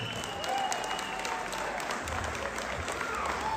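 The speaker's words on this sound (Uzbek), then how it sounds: "mana shu joyiga qarsak chalinish kerak edi o'zi aslida" Guests at a wedding celebration in Gallaorol applaud in a steady, dense patter of many hands, moderately quiet and continuous throughout, with no clear speech over it.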